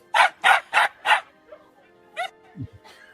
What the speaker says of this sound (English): I love videos of dogs in the snow.